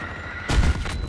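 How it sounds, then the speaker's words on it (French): A sudden heavy explosion booms in a multiplayer shooter game, a single loud low-frequency blast after a brief quiet lead-in, followed by a short rumbling tail. "je m'ai pris une explosion"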